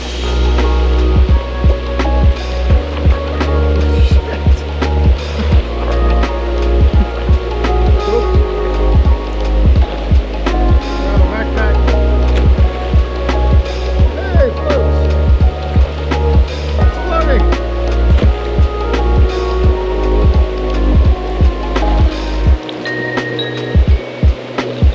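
Heavy tropical storm rain pouring by a river, a loud dense hiss of drops with a steady irregular patter of hits close by, continuing nearly unbroken throughout.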